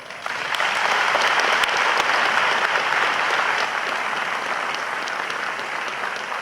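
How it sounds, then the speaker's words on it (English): Sustained audience applause fills a hall as a presidential candidate, Professor Venantius Bariamureba, comes up on stage at a debate; steady, dense clapping from a large crowd throughout. "Let's give him a round of applause as he comes up on stage."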